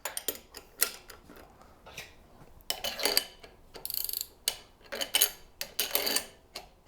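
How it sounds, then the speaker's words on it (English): Gear wrenches ratcheting while setting up a press for suspension bushings, a string of quick metallic clicking bursts with short pauses between, close and fairly quiet, no talking. "So we're just gonna grab 2 of my gear wrenches, and I'm just gonna get everything lined up over here."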